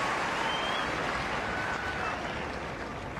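A tennis crowd at the Monte Carlo Masters claycourt semifinal cheers and applauds, a steady, loud wash of clapping and voices filling the whole stretch without letup.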